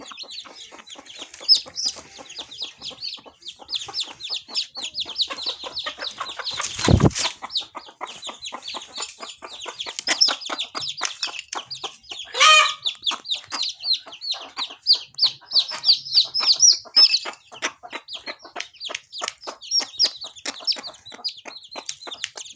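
Hen clucking steadily alongside a rapid stream of high peeping calls from nine newly hatched chicks, fairly close, with one brief louder squawk partway through.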